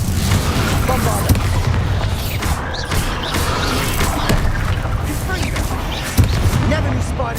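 Bombarda spell explosions in Hogwarts Legacy, a run of booming blasts and crashes at close range, with dense game action filling the background throughout.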